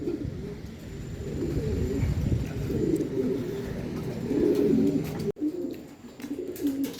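A flock of pigeons released through an opened loft trapdoor coos in low, overlapping throaty calls, a steady murmur close by with a brief break near the end.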